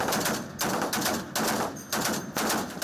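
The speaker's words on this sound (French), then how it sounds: "Une mitrailleuse à gros calibre sur le pont supérieur" A heavy machine gun fires from the upper deck of an Israeli navy warship during an exercise near the northern border, loud close bursts of rapid shots separated by short pauses, with no talking.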